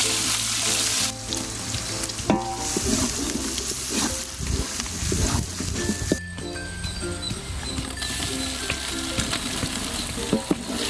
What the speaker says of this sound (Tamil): எண்ணெய் நல்லா காஞ்சி போச்சு. கடுகு, பச்சை மிளகாய், வெங்காயம் கொஞ்சம் நிறைய போட்டுங்க.